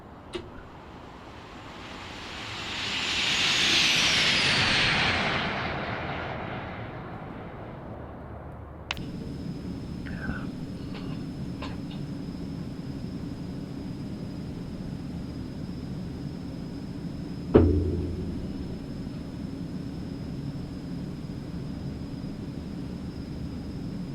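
A small Eclipse 550 business jet passes by in a flight simulator, its broad rushing roar swelling over a few seconds and fading, then giving way to a steady low engine hum with a few faint clicks and one sharp thump.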